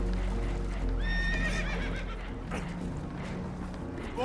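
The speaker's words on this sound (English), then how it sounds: "Horses are spooked, and we're taking on water." Spooked horses neighing and whinnying aboard a leaking boat in Red Dead Redemption 2, shrill calls rising over a steady rush of water, with hooves clopping nervously and faint voices beneath.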